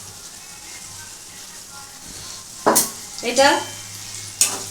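Cashews being stirred in a hot pan for stuffed pointed gourd, with a low frying hiss and a few sharp scraping stirs, a short spoken word over it.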